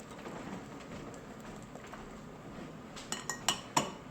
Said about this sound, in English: Alright, so the rice has been cooking for about 7 minutes. Drain it out.